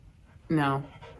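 Dog panting with a short whimpering whine, close by, a brief burst of breathy pants indoors with faint background sound.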